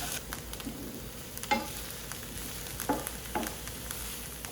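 Sliced onions cook down slowly in a pan, giving a quiet, steady sizzle with a few soft stirring scrapes.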